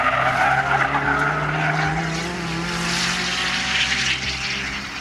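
A 550bhp Land Rover Bowler EXR S races around the Millbrook handling circuit, its engine a loud, continuous roar with shifting pitch as it drives hard, steady and close with no talk.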